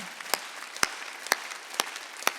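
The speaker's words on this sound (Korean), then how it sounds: "박수 치려고 세게" Church congregation applause during a Sunday worship service, with sharp, evenly spaced loud claps standing out about twice a second over a steady wash of clapping.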